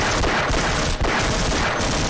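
Loud, dense gunfire in Half-Life: Opposing Force, a near-continuous barrage of rapid pistol shots and crackling impacts filling the whole moment with no pause.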